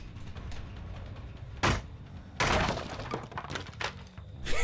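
Generators blowing up in Dead by Daylight, several sharp bursts and thuds at irregular intervals over a steady muffled game background, one especially loud blast near the middle, with no talk.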